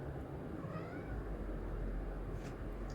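A house cat meows for attention indoors near eating time, a faint, soft meow rising once or twice over a low room hum, with no talk over it.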